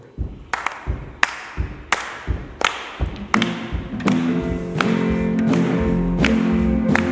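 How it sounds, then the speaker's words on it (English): A church congregation at a First Sunday of Advent service claps together in a steady rhythmic beat, crisp slaps about every two thirds of a second that thicken as music and voices swell in beneath them. "Clap with me if you would."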